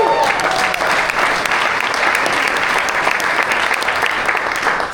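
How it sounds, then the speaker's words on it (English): Loud, sustained applause fills a large hall at a real estate rally keynote, a dense, even roar of clapping from a big crowd throughout. "you owe yourself a round of applause"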